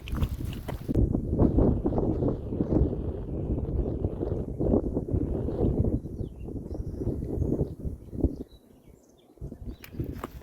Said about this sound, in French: il y a un petit vent frais quand même